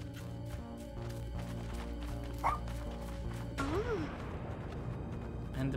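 A puppy in the video game Little Misfortune gives a few yips and whimpers over steady game music, with a higher tonal cry near the middle and a sliding whine later.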